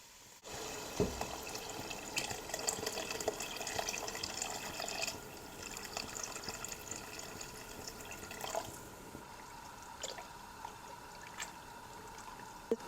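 Hot water pours steadily into a pot for several seconds with a broad, rushing splash that thins toward the end, recorded close by, with a few small clinks.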